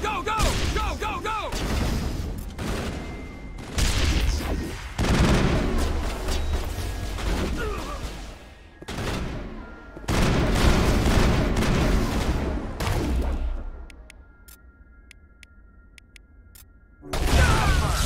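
Bursts of gunfire and explosions from a firefight in the Mass Effect video game, arriving in several loud clusters separated by brief lulls, with shouted voices mixed in.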